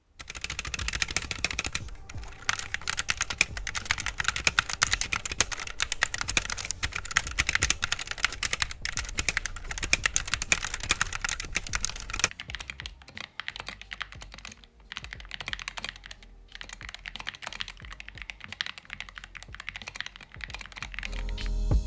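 Steady, fast typing on a GK61 60% keyboard fitted with optical switches, a dense run of close, crisp keystrokes that continues for about twenty seconds with no one speaking.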